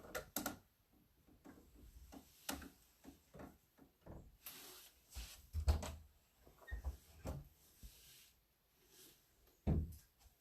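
Wooden craft-room cabinet doors open and shut in a stamping area, giving a series of close knocks, clunks and rubbing wood sounds spread across several seconds, with no talking.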